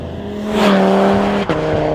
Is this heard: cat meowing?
no